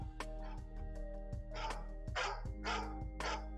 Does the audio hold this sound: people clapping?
no